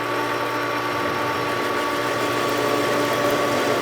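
A metal lathe spins a steel part while facing it off, giving a steady, even machine hum with a continuous broadband whir and no talk.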